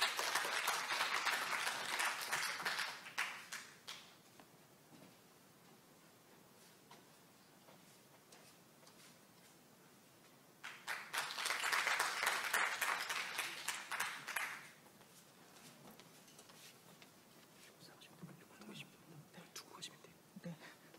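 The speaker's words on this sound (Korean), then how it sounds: "두 분을 큰 박수로 맞이해 주시기 바랍니다" An audience at a village-care public-private governance project report applauds arriving presenters in two strong bursts of clapping, near and full, separated by a quieter stretch of faint room murmur and scattered sounds.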